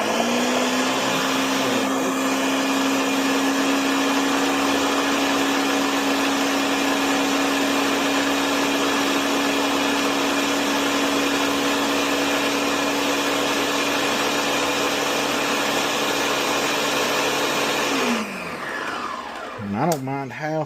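A blender runs steadily at high speed, pureeing a batch of homemade tomato salsa from garden produce. The loud constant whir holds for about eighteen seconds, then winds down and stops near the end.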